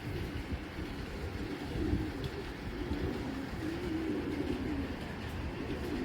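Giribaj pigeons coo in low, soft rolling phrases that repeat steadily over a constant dull background hum, with no voices.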